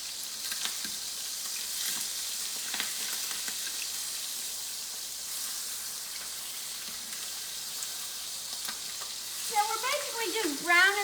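Chicken for lemon butter chicken browns in a frying pan with a steady, soft sizzle throughout, a few light clinks, and brief spoken sounds near the end.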